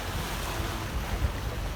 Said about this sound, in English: It's a moving, noising boat, but we're making good speed